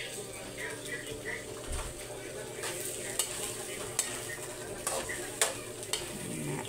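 Water spinach (tangkong) stems being stir-fried in a pan, a steady sizzle with occasional sharp scrapes and clinks of the utensil against the pan, near and moderately loud.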